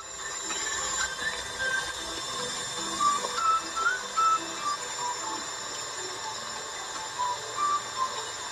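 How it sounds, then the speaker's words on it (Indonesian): An electric mixer at medium speed beats butter into batter for a cheese roll cake, a continuous whirring hum with light rattling and scraping in the bowl, moderately loud throughout. "ini kita kocok sampai butternya tercampur rata"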